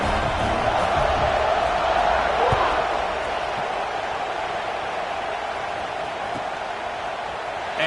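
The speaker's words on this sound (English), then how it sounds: "You think this crowd's going to get loud when their defense comes on the field?" Stadium crowd in the NCAA 25 college football video game, a dense, loud, continuous roar that surges early and then settles to a steady wash with a few faint thuds, under game commentary.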